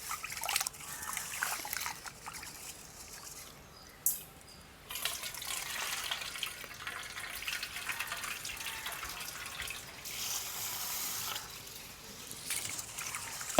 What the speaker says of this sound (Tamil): நாங்கள் அரிசியை வந்து கழுவுவோம். ஒரு 3-4 தண்ணியில் கழுவி எடுக்கணும்.